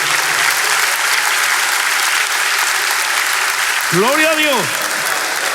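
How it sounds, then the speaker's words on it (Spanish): A church congregation claps loudly and steadily throughout a worship service in honour of the Lord, and near the end a voice speaks briefly over the applause. "Un aplauso al Señor que vive."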